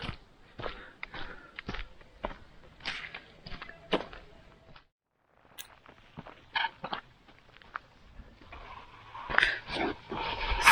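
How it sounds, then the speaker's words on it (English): A dog at a family house near a pond whimpering and moving about, with scattered sharp clicks, footfalls and faint whines, close but fairly quiet amid background shuffling. "That is the owner's dog there."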